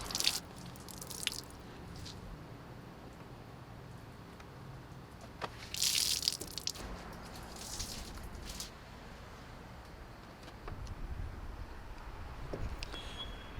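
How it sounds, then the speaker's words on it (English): Hand-washed socks are wrung out, probably over a bag or a bucket edge, with soft wet squishes and drips coming in a few brief bursts against a quiet background. "I kind of like to pair like my socks up and stuff. So take those and then you're just gonna wring them out."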